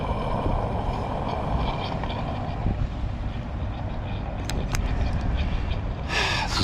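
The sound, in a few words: Ford Fairlane car engine running after first start in 2 years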